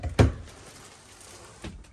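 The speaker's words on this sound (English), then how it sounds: "Nice thing with the door here, it slides either direction." Sliding interior door in a 2022 Grand Design S-Class 3950BH bunkhouse fifth wheel trailer rolls with a soft thud at the start and a second, fainter bump near the end, in a quiet room.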